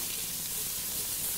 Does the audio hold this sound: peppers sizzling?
yes